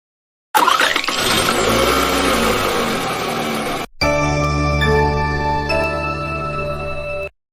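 A cab's engine runs loudly and steadily close by while being checked, with a brief cut midway before the engine hum resumes, mostly alone without talk.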